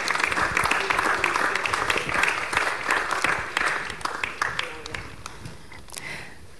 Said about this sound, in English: could we have a round of applause for our speakers?